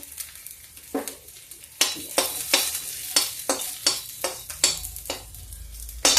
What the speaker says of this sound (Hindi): अब जीरा के बाद इसमें पड़ेगा थोड़ा लहसुन।